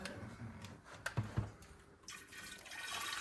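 Filtered water trickles and splashes as it is poured into a hot water kettle, a steady liquid rush with a few small clunks near the start.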